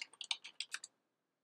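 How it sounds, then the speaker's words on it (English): Commands are typed on a computer keyboard during a Raspberry Pi 4 setup: about eight quick, crisp keystrokes in a close, uneven burst, then silence. "Next, I'll type sudo space app space full dash upgrade."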